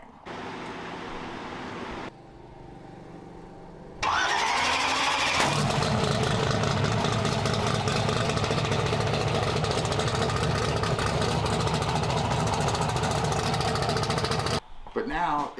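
A car engine cranks and fires, then settles into a loud, steady, close idle that holds for about ten seconds before cutting out, while a person talks over it.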